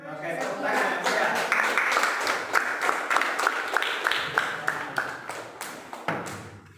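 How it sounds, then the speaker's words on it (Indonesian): A classroom group claps in an Indonesian school lesson on avoiding bad character, a scattered patter of hands that starts brisk and tapers off, with a few distinct claps at the end. "tepuk tangan ya"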